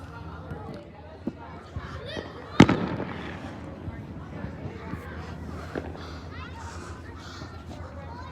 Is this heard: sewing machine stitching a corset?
no